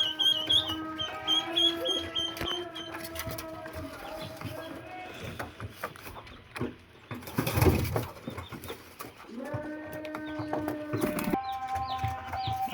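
Pigeons cooing and calling close by while being fed, amid scattered clucks and fluttering, with a burst of wing flapping partway through.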